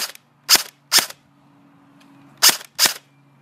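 An electric airsoft gun, a SCAR with Deans connectors, fires four single shots in two pairs, each a sharp snap with a brief, slightly whiny motor whir, close and clear with a quiet hum between.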